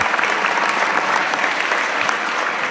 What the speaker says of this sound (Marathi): एकदा जोरदार टाळ्या स्वतःसाठी वाजवा